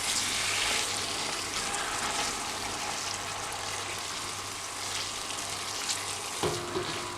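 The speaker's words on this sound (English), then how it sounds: "Just a tiny taste more of water, just a little bit more, gradually adding it a bit at a time." Splashes of water going into curry spices frying in a pan, a steady watery hiss and sputter at moderate volume, with a short sharp spit near the end.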